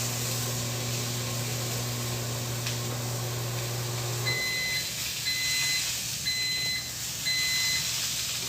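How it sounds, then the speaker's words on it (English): A microwave oven hums steadily while heating about two tablespoons of butter, then the hum stops and four evenly spaced electronic beeps ring out, loud and close. "Put it in the microwave for about 15 seconds."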